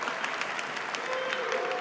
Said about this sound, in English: The applause and the heckles, this is what's going on the right now.